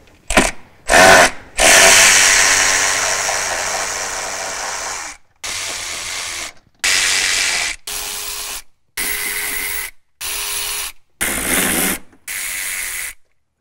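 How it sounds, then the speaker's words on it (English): 12-volt electric ratchet whirring in a series of loud, close bursts of about a second each, one longer run near the start, removing screws from a Berkeley Jet 12JG pump. "We're gonna go in with little 12 volt ratchet and see if we can just pop them off"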